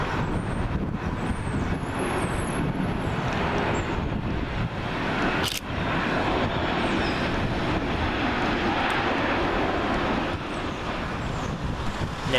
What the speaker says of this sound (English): Also behind that is Ryanair Boeing 737-8AS, registration Sierra Papa Romeo Kilo Delta, working flight FR7547, and that's from Posen.